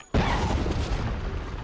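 A bomb goes off in the video game Dead Rising: a sudden loud, close blast that settles into a heavy rumbling roar lasting over a second.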